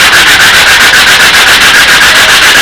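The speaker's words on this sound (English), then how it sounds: "you keep it sanding until you get a nice tight fit" Rapid rhythmic rubbing of sandpaper on a wooden joint being sized for a tight fit, loud and close, with even back-and-forth strokes continuing throughout.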